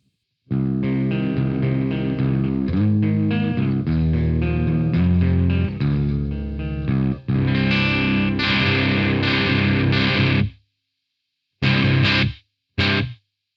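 Clean electric guitar through a Black Cat Amps Petal to the Metal pedal, playing chords and picked notes, bright and sustained, with a few brief pauses and short strums near the end.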